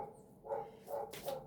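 Three quick, faint dog barks come in a steady rhythm, sounding somewhat distant.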